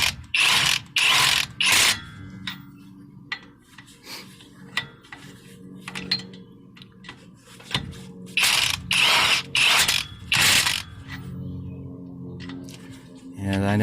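Ratchet wrench tightening wheel spacer lug nuts on a 2016 Ram Big Horn 4x4, loud rapid clicking bursts repeating close by, with metallic clinks in between and a brief voice.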